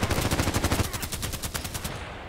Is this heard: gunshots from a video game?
yes